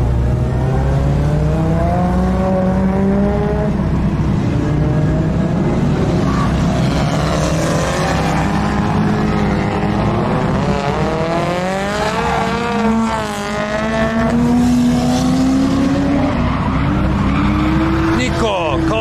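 Cars drift around a track, tyres skidding and squealing in long sliding wails over roaring engines; a steady loud drone with rising and falling pitch sweeps, and voices chat over the track noise.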